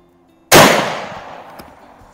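A single loud, close gunshot from a 1943 Lee Enfield No4 Mk1 .303 British bolt-action military rifle at an outdoor range, a sharp crack that trails off in a decaying echo.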